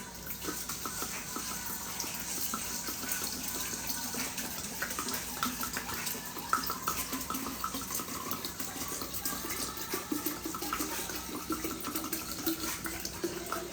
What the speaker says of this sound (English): And I'm going to water this.